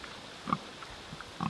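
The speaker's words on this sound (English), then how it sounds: "We got pigs running on pasture?" Pigs out on pasture on a farm give two brief grunts, a second apart, fairly faint against quiet outdoor background.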